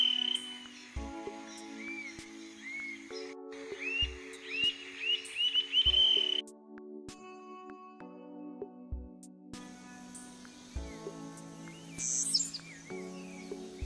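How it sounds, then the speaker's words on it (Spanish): Near and clear, a male chirrí hopping through branches gives a run of sharp, almost metallic call notes. Frogs and insects keep up a steady chorus underneath. "El macho brinca en las ramas emitiendo un sonido casi metálico"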